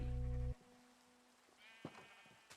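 Minecraft sheep bleating in a Minecolonies shepherd's hut, a faint, brief bleat late in the clip over quiet game ambience, after a loud tonal burst at the start.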